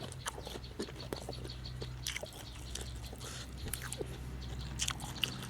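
Someone eats at close range, producing soft irregular chewing and biting crunches in a quiet room, with faint background clicks.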